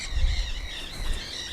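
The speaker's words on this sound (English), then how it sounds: "Those are a flock of Quaker parrots." A flock of Quaker parrots calls from a distance, overlapping squawks and chatter layered over a low rumble of outdoor background noise.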